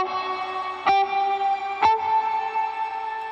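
Electric guitar through a Strymon BlueSky reverb in shimmer mode 2 strikes two chord stabs about a second apart over an already ringing wash, each blooming into a long, glassy, pitched-up reverb tail.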